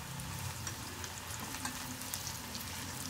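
Taro root pieces fry in hot oil for a crispy taro fry, a dense, even crackling hiss with faint bubbling pops, close but fairly quiet, with no voices.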